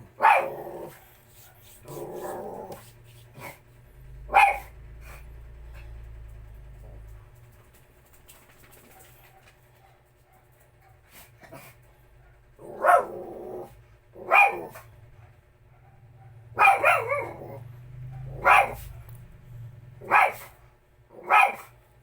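A dog barks repeatedly in short bursts with pauses between them, and a low growl-like rumble appears at moments. Fairly near, moderately loud.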